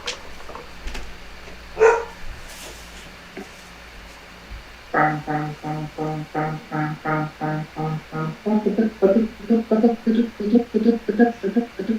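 A dog barks in a fast, steady string of repeated woofs that grows louder toward the end, following an earlier stretch with a faint voice and a few stray noises.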